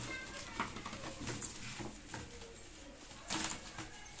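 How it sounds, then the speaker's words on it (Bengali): Pigeons kept in pairs give soft, low cooing in the background, with a couple of brief flutters or scuffles, fairly faint and steady throughout. "এখানে 2 পেয়ার কবুতর আছে নরমালি কনফার্ম"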